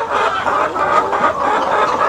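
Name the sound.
hens clucking on a poultry farm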